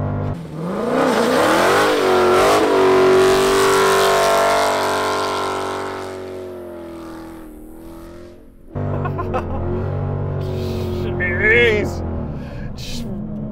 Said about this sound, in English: you turn off the traction control and, well, it makes a big old mess of the tires